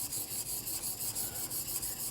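A block plane blade is worked freehand back and forth on a sharpening stone, giving a steady rhythmic rasping scrape of close strokes that repeat about every quarter second with no pauses.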